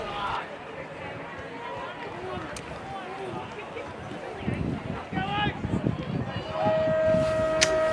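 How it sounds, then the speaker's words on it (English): A long siren tone starting the final quarter rises over a noisy crowd near the end of a grand final match, following a stretch of continuous crowd noise and scattered voices. "And there's the siren to get the final quarter underway."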